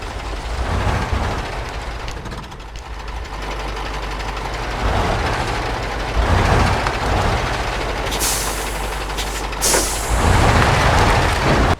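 Air brakes on a truck in a driving video game give a steady hiss, with bursts of sharper hissing near the end over a constant rumbling engine and road noise, close and loud throughout.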